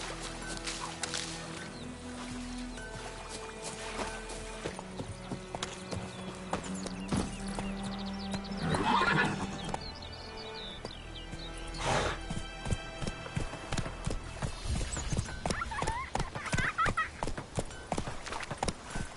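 A horse in a PS5 video game, its hooves clip-clopping in a steady walking rhythm amid game ambience, with a brief whinny in the middle and a voice speaking quietly at times.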